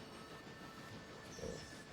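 Chicago and North Western passenger train rolling along rails toward Whittier, a steady low rumble with a sustained metallic tone and a brief squeal near the end, no voices.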